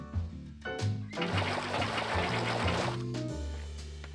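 Water sources poured into a bubble column in modded Minecraft with the Create mod: a loud, continuous rush of splashing and bubbling water that swells through the middle and stays steady to the end, with no talk over it.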